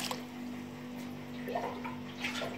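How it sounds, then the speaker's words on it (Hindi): Water is poured into a bowl of rinsed urad dal and rice for soaking, a steady splashing trickle over a low constant hum. "इसमें पानी ऐड करना है"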